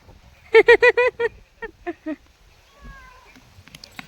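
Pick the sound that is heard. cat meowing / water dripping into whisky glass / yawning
cat meowing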